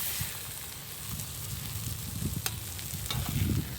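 Chicken pieces sizzling in a cast iron Dutch oven, a soft steady frying hiss with a few faint clinks, fairly quiet and with no talking.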